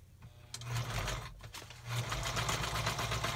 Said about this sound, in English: I'm just going to go ahead and sew it on